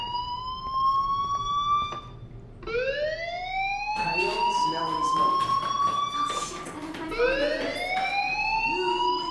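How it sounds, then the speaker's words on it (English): A fire alarm sounds in the video game Life is Strange, a loud wailing siren tone sweeping upward again and again, with talk heard over it. "do you hear that fire alarm? That means you should be outside."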